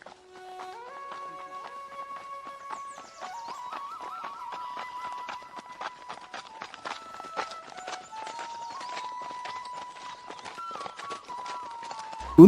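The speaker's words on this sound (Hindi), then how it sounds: "अगली सुबह होते ही दोनों मित्र एक एक घोड़े पर सवार होकर मयूर राज्य" Cartoon horses' hooves clip-clopping steadily as two riders travel side by side, a brisk, even galloping rhythm over a thin, sustained musical tone, with no talking.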